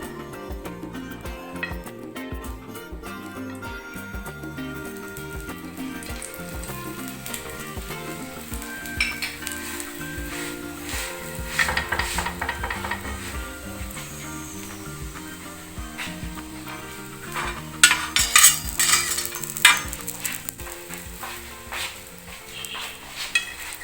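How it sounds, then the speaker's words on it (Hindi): Jaggery-stuffed paratha fries in ghee on a tawa griddle, a steady sizzle running throughout with occasional scraping and clinking of a spatula against the pan, growing busier near the end. "ये देखिए अब हमने इसको तवे पर लगा दिया। थोड़ा थोड़ा सा हमने घी लगाना है चारों साइडों से।"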